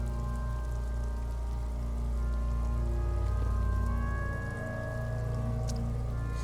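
Rain falls steadily in the video game Disco Elysium, a soft continuous hiss laid under droning, tonal ambient music, with no one talking.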